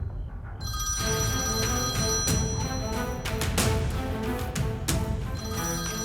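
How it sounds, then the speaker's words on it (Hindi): A telephone rings in a domestic scene, its bell repeating in steady bursts at moderate loudness over a constant background bed, with no talking. "इन्हें फोन उठाना नहीं आता क्या?"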